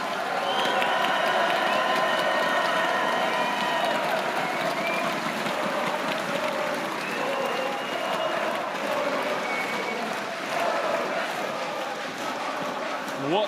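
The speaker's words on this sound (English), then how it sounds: "Un tonnerre d'applaudissements pour Calice, s'il vous plaît." A large crowd at a League of Legends esports match applauds and cheers steadily throughout, a dense wash of clapping with some voices and tones mixed in.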